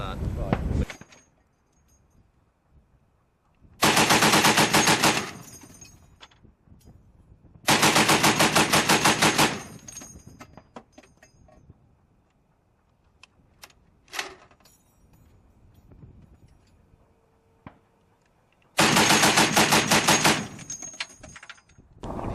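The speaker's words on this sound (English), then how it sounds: "we went out to the firing range, and I was shown a number of the weapon systems that they use" Military weapons fire on a firing range in Afghanistan in three long rapid automatic bursts, loud and close, separated by quieter stretches with faint handling clicks.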